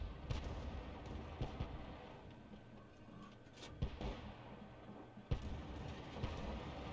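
Artillery fire from a 105 mm leFH18B2 self-propelled gun in the tank game World of Tanks, with a few sharp booming shots standing out over a steady rumbling battle background, no talk.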